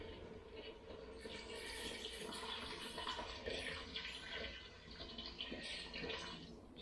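Water poured into a pot of tomatoes and vegetable stock cubes, a steady splashing rush that runs continuously for the whole stretch, close and fairly even.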